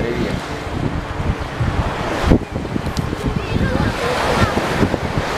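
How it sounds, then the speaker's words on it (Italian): Choppy, somewhat rough sea breaks on a beach in light wind, a continuous rumbling wash of surf with a sharper crash midway, buffeted by wind noise on the microphone. "Oggi il mare è un po' mosso, non è neanche tanto pulito a dire il vero."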